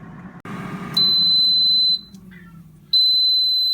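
A Power AirFryer XL beeps when its cooking time ends: two long, loud high electronic tones, each about a second long with a pause between, after a faint click and some quiet room noise.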